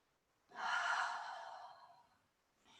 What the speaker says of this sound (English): One more time, deep breath in and out.